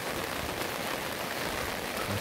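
Steady rain pours down beside the Nakdong River, a dense, even hiss of drops hitting surfaces that fills the whole stretch without a break.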